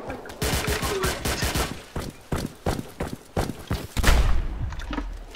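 Gunfire in America Simulator, a quick rapid burst of close shots followed by scattered single cracks and a heavier thump near the end, with game noise around them.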